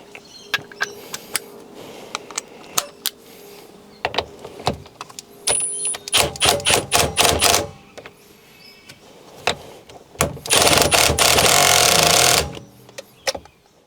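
Ratchet wrench on an extension tightening a nut on a Toyota N80 Hilux, with bursts of rapid clicking, the loudest run near the end, plus scattered knocks and handling noises close by.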